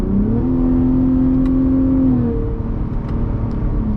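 A car engine revs through paddle-shift downshifts, its steady hum stepping up and then falling back between gear changes, loud and close inside the cabin.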